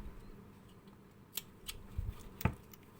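Scissors snip yarn on a crocheted amigurumi mule, a few separate crisp cuts spaced about half a second apart, close and fairly quiet over a soft room background.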